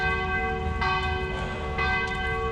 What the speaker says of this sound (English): Jeez, those bells.